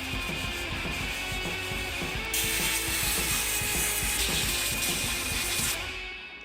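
Cleaning out the air filter housing on an old, long-abandoned squarebody dually truck: a steady run of close mechanical clicking and ticking, then a loud broad hiss of spray or compressed air that runs for several seconds before fading.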